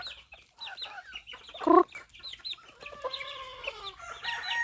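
Chickens and small chicks cluck and peep in a farmyard, with a louder burst of clucking near the middle and steady high chick peeping afterward, all close by and with no talk.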